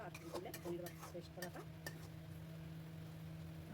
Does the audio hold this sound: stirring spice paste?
yes